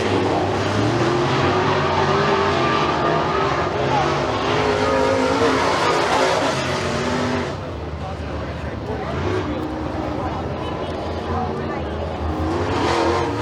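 Pro Mod race cars run a heat at McKean County Raceway dirt track, a loud, continuous roar of several engines that eases slightly toward the end, with an announcer talking over it.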